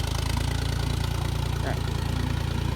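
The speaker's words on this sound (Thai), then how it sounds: "เครื่องเดินเบาๆ" Tractor engine idling in a rice field being prepared for the dry-season crop, a steady low rhythmic chug that stays even and unhurried throughout, close and loud with no revving.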